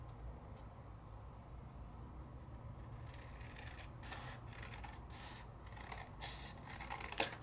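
Scissors cutting down a crafting mat, a faint run of snipping and rasping strokes that grows busier and clearer in the second half over a low hum, close and quiet.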